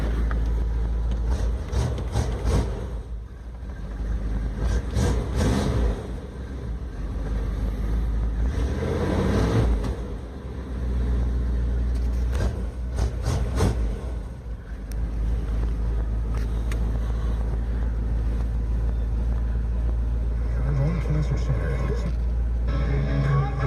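A 1989 Dodge Power Ram pickup with a 318 engine and a glass pack muffler runs steadily at idle, a loud, constant low rumble filling the whole stretch with wind buffeting the microphone and a person talking over it.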